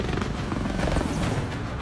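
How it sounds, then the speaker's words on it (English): A helicopter on a 2017 Transformers film set gives off a steady, low, broadband rotor and engine rumble, heard alone and at a moderate distance for a couple of seconds. "Get that helicopter up in the air."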